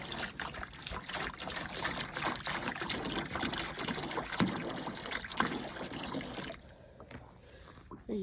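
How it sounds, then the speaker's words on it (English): Hot water poured into a frozen dog's water tub on a 16°F day gives a continuous trickling, splashing stream close up that stops near the end, leaving a quieter moment. "So, we'll get him some hot water, melt the ice."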